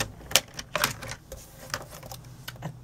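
A paper cutter slicing through scalloped paper, a few short, sharp clicking and scraping strokes heard close and fairly quiet, with no talking.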